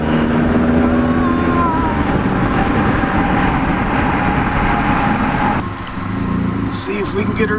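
A 1.8-litre turbocharged Chevy Cruze engine on a budget build with 60 lb injectors, droning loudly and steadily under boost as the car accelerates, with road and wind noise and a voice talking over it.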